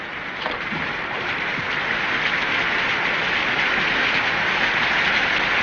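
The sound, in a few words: rain falling in a drama scene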